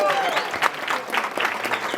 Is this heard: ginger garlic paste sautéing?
no